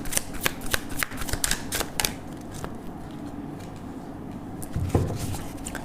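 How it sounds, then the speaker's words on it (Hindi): A deck of tarot cards being shuffled by hand, with quick repeated riffling flicks at first, then slower, softer card sounds and a final tap, close and clear with no speech. "last shuffle"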